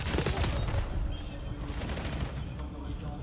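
Bursts of rapid automatic gunfire from a Call of Duty match, dense rattling shots that ease off then return.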